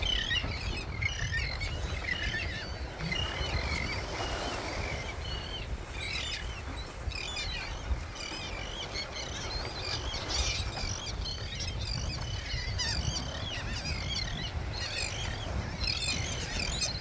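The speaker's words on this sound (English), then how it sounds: "gonna scare all these birds off the beach" A flock of birds on a beach is scared off, giving a dense chorus of chirps and calls over steady low wind and surf noise, with no voices.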